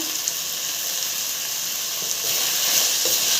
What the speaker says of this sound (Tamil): நல்லா குழைவாக வதக்கி விடுங்க பாருங்க எல்லா பொருளும் போட்டு நல்லா வதக்கியாச்சு